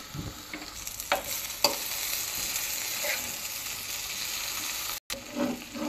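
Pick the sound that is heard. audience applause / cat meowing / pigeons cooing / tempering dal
tempering dal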